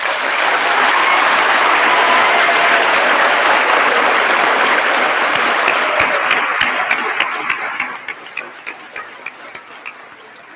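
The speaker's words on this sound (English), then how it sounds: "all our graduates deserve another round of applause" A graduation ceremony crowd gives a dense, loud round of applause that holds steady for several seconds, then thins into a handful of separate claps as it dies away.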